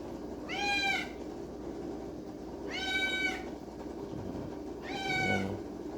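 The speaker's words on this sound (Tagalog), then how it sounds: "Ganito ba talaga guys mga anak ng pusa?" Newborn kittens give three loud, rising meows, evenly spaced about two seconds apart, over a low background rumble.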